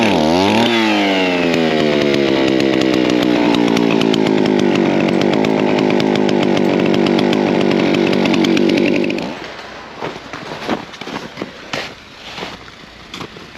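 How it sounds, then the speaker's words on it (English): An old chainsaw fitted with a drill-chuck attachment, once used for cutting in the woods, revs loud and close with a rising whine, runs steadily for about nine seconds, then cuts off into quieter clatter and knocks. "great-grandpa's chainsaw he used to cut in the woods with"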